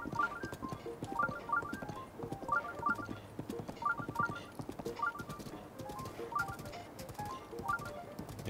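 Horse galloping in The Legend of Zelda: Breath of the Wild, rapid rhythmic hoofbeats in repeating bursts, close and clear over a soft background.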